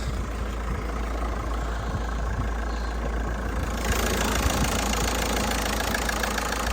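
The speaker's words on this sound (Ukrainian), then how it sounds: "Можете послухати, як воркоче цей двигун, як він працює." A 2008 Volkswagen Touran 1.9 diesel idles with the bonnet open, a steady low rumbling clatter that grows slightly louder and closer midway through, with no voices.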